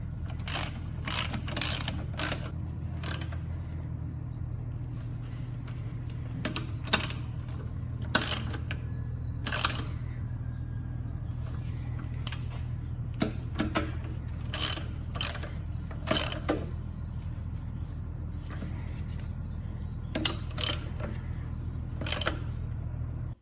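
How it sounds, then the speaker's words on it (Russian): A ratchet with a 12 mm socket tightens bolts in a crisscross pattern on a Suzuki Jimny R72 manual gearbox, repeated bursts of close, crisp clicking separated by short pauses over a low steady hum. "Головкой на 12 мы равномерно протягиваем болты крест-накрест."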